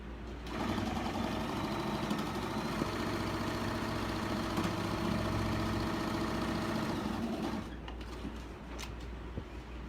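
A sewing machine stitches a Geese in the Pond quilt block in one steady, continuous run of mechanical whirring that lasts most of the clip, then stops near the end. No one speaks.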